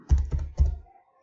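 Close, quick keystrokes on a computer keyboard as a command is typed: three short bursts of clicking within about a second, then quiet.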